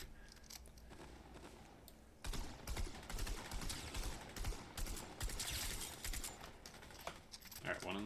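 Rapid bursts of video game gunfire crackle in quick clustered volleys, loud and close, with faint talk underneath.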